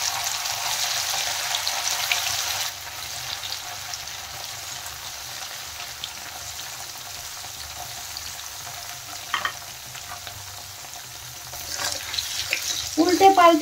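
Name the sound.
paneer frying in hot oil in a wok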